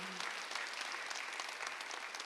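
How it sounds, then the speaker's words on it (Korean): Congregation applauding during a Korean Sunday worship service, a steady, faint wash of many hands clapping at once from a distance, without talk. "오늘도 좋은 일을 준 것에 시험 박수하세요"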